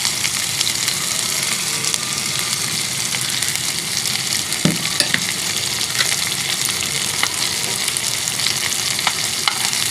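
Mini beef kababs frying in a pan, giving a steady, dense sizzle of hot oil throughout with an occasional soft stir or clink, and no voices.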